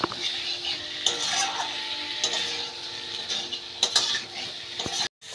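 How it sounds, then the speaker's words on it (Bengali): Tangra fish is stirred with spices in a pan, a constant sizzle under occasional spatula scrapes and light metallic taps, ending with a brief cut to silence. "মশলার সাথে এগুলো একটু নাড়াচাড়া করে দেবো।"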